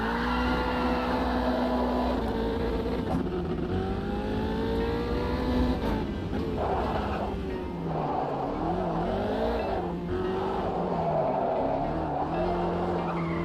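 Tyres squealing on cold rubber in a racing video game, a continuous loud skid with engine revving beneath, sustained and wavering in pitch throughout.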